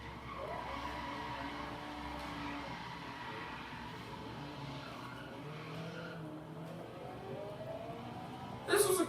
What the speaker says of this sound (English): Let's drift it. See how well it slides.